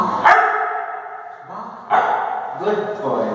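A Labrador barks loudly on command during basic training, three sharp close barks spaced about a second apart, with someone speaking in between.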